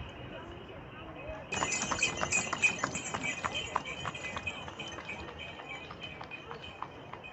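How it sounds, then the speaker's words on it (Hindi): Horse-drawn carriages and horses on traffic-free Naqsh-e-Jahan Square in Isfahan, Iran, with hooves clip-clopping in an irregular rhythm amid outdoor crowd ambience after a sudden rise in sound, people talking nearby. "टांगे चलते हैं यहाँ पर, घोड़े हैं"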